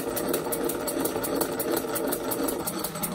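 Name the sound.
double acting oscillating engine running on compressed air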